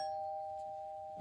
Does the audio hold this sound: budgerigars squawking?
no